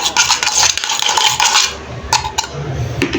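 Utensils scraping and clinking against a dish while mixing pancit canton with corned tuna, a brisk close series of metallic rattles and scrapes that grows sparser toward the end.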